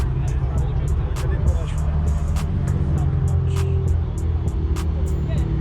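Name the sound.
loud Volkswagen Golf R car arriving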